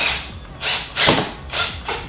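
A power drill whirring in four short bursts as it drives screws into a faux marble tavern table, each a brief high-pitched buzz with pauses in between, close by.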